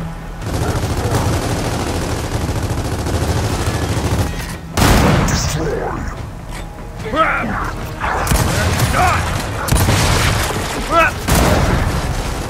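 Sniper gunfire in Gears of War 4 on Xbox One X, loud booming shots and heavy impacts amid battle noise, with voices calling out between the blasts.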